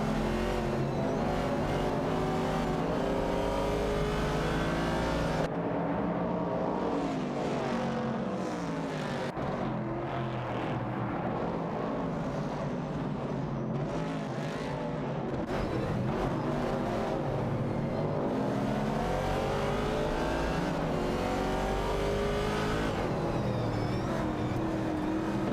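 Race cars in an AI racing video game, including a Ford Falcon and an AMC Javelin, whine at high revs in a continuous loud drone, with shifting pitch as engines rise and fall through gears; no talking.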